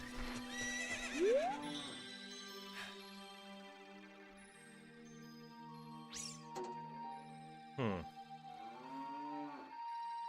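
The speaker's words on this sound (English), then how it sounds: "I hear horses jaloping." Horses in a Zelda video game whinny loudly in a rising-and-falling call, with further neighs later and faint hoof-like clip-clop and game chimes and tones underneath, no talking.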